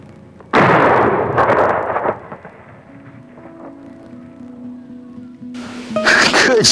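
A shotgun fired at a turkey during a hunt gives a sudden loud blast with a short echoing tail, followed by quieter rustling, and a second sharp burst of noise near the end.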